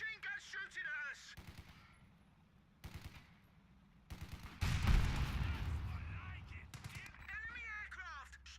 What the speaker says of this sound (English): Machine gun shooting at us.